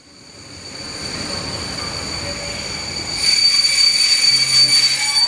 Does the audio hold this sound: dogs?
no